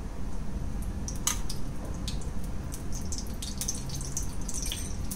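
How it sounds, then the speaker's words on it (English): Ghee goes into a hot pan with cashew nuts, making a steady close hiss with wet crackles, drips and soft squishy pops throughout. "we need to put some extra ghee to our pan"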